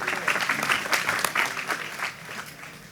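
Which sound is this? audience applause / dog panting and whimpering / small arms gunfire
audience applause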